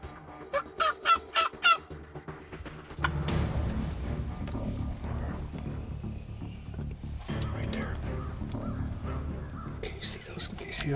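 Wild turkeys gobble near a ridge on a hunt, a rapid burst of loud gobbling calls up front, followed by hushed voices talking over outdoor rustling and more distant gobbles.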